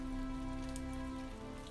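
Steady rain hisses faintly through a closed door, a soft continuous wash with no voices and a low hum running underneath.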